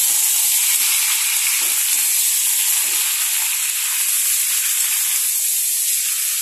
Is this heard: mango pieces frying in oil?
yes